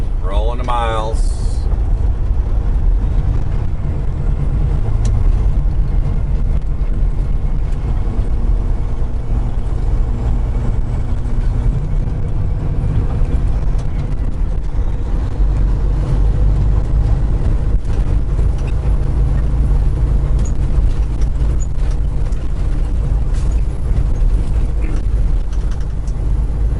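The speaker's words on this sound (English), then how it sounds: "just keeping the pedal to the floor, rolling the miles" A truck drives on a highway toward St. Louis, its engine running with a constant low rumble and road noise for the whole stretch. A person talks over it now and then.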